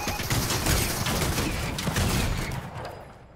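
Rapid bursts of gunfire in the video game Fortnite, a dense crackling volley lasting a few seconds before tapering off, with no talk over it.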